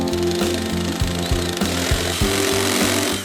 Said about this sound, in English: I'm gonna start with a step bit to get the hole going